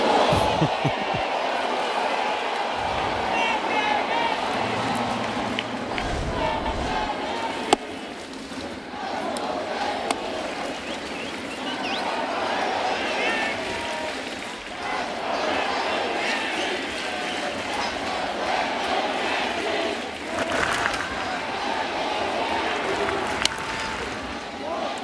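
A large baseball crowd at a Yankees game against the Diamondbacks cheers and roars steadily throughout, a dense wash of voices with rising swells, while a broadcaster talks over it.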